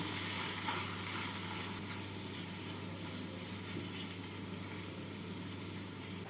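Mutton keema sizzles and fries steadily in a pan as it is stirred with gram flour and garam masala, a continuous close hiss with no talk.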